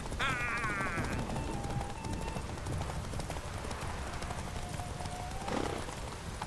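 Roach, Geralt's horse in The Witcher 3, trots with steady rhythmic clip-clop hooves and snorts over a dense, continuous game soundscape, hoof falls close and even throughout.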